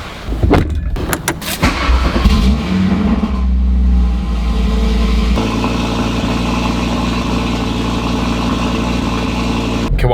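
Audi RS3 8Y engine idling steadily while warming up, a low continuous rumble with an early blip of revs and brief mechanical clatter before settling into an even, close idle.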